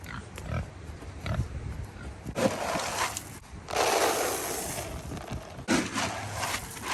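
Low, rough pig grunts in short bursts over a noisy background, with a few louder snorting outbursts, fairly close.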